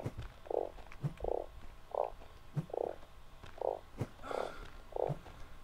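A frog in the video game Starsand croaks repeatedly in a steady rhythm, about eight short, hollow croaks spaced roughly evenly, with soft low thumps between them.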